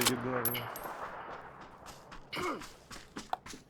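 Gunfire in the video game PUBG: a few sharp shots and short bursts, moderately loud, scattered among quieter game sounds and brief voice noises.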